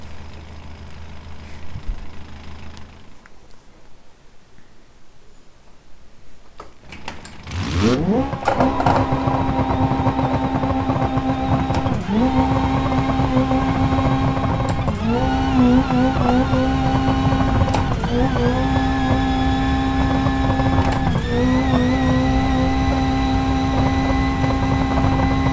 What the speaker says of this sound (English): That's what the VTech kicking looks like.